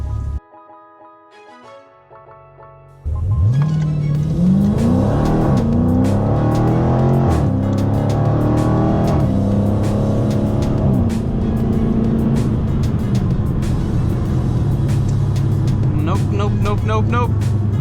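A Dodge Challenger SRT 392 launches hard on poor tires, its loud V8 roar rising and bucking through wheel hop after a quieter idle, with a driver talking over the sustained engine noise.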